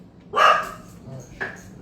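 Two sharp barks from a dog, a louder one first and a shorter one about a second later, fairly close.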